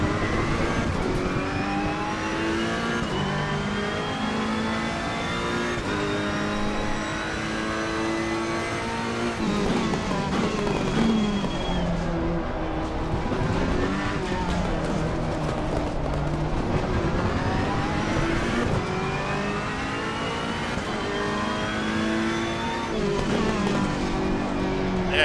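A Ferrari 488 EVO GT3 in Assetto Corsa Competizione at Zandvoort screams through the gears, its engine note climbing and falling in long sweeps, loud and continuous from the cockpit with another car close ahead.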